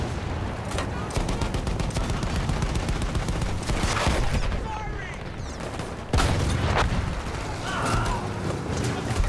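Gunfire in the WWI shooter Battlefield 1: continuous dense volleys of rifle and machine-gun fire with booming impacts, loud and sustained throughout, with another sharp surge partway through.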